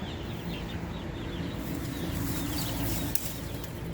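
Chickens cluck intermittently nearby against a steady outdoor background, with a brief flutter of wings.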